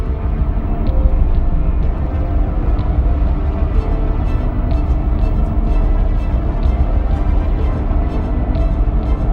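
Trawler winch on a modern factory fishing ship hauling the trawl net to the stern, a loud continuous mechanical rumble and drone that holds steady throughout, with faint rattles on top and no voices.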